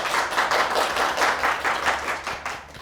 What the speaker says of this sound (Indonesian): Tepuk tangan Ibu-ibu.